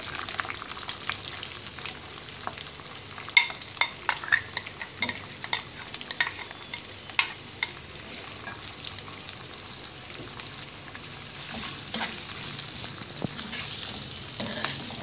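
Onions frying in oil in a pan, a steady soft crackling sizzle with scattered sharp pops and occasional stirring clicks, close and moderately quiet, no voices.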